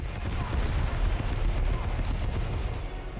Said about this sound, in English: Oh yeah, the guns definitely shoot.